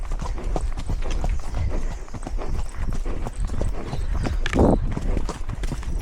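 A pony's hooves clip-clop on a tourist ride, a quick steady run of close, sharp knocks with a brief louder scuffle partway through.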